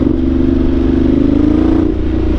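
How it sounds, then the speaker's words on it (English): A Ducati 1200 Multistrada Enduro motorcycle exhaust drones at steady revs, a deep, continuous engine rumble heard close up with no pauses. "You hear this exhaust so well in the cockpit"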